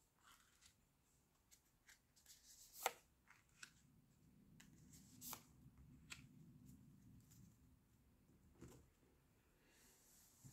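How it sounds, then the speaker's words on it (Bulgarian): Three tarot cards are shuffled and drawn in a quiet room, with soft sliding and riffling texture in the middle and a few sharp card snaps and taps spread across the clip. "Ще изтегля 3 карти."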